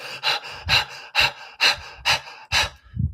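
A person imitates heavy huffing and puffing breathing, seven forceful rhythmic breaths in quick succession, close and loud, ending with a softer low exhale.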